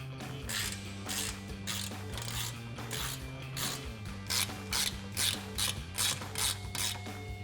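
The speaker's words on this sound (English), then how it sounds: "we'll take our 4mm Allen bit to tighten this down" A ratchet driving a 4mm Allen bit tightens a bolt with a flat washer while a K&N cold air intake is installed on a 2016-2023 Camaro SS, clicking in close, quick bursts of rapid pawl ticks.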